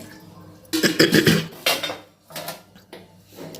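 A spoon stirs pongal in a pressure-cooker pot, giving loud metallic scrapes and clanks in several uneven bursts, close up.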